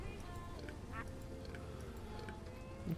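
Ducks quack repeatedly in the video game TerraFirmaGreg, a few clear quacks standing out over a steady low background hum.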